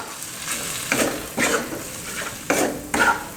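Minced pork tossed with pounded spice paste in a pan for larb moo, with several distinct scraping stir strokes over a faint sizzle, spaced about a second apart, close and without talk.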